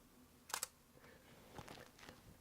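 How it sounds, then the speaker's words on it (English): A Canon M50 camera shutter firing, a quick, sharp mechanical double click up close, followed by quieter plasticky handling clicks and rustles in an otherwise quiet room. "the sound of the M50 shutter"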